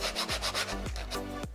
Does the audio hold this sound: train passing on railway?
no